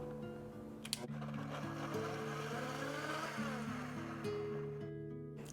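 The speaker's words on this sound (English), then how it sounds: "Now I'm gonna blend these really well." A blender whirs steadily as it purées softened guajillo chiles with a cup of their boiling water, its motor pitch wavering and shifting for several seconds.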